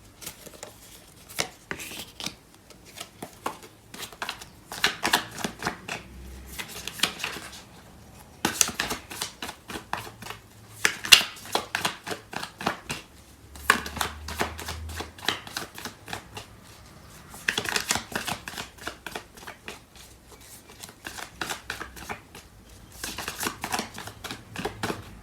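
Tarot cards are shuffled by hand in a long stretch of rapid, crisp riffling bursts that come in uneven waves, close and fairly loud, with no talking over them.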